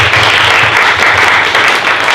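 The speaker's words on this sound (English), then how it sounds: "Let's give Dave a round of applause" Loud, steady applause from an audience at a sales meeting, dense clapping continuing without a break and with no talking over it.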